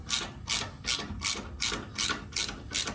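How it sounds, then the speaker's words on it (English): A ratchet-style torque wrench clicks through steady strokes while tightening bolts on a Toyota Tundra demon bracket, about eight loud, evenly spaced ratcheting bursts close up, with no talking. "finish tightening it down with the torque wrench"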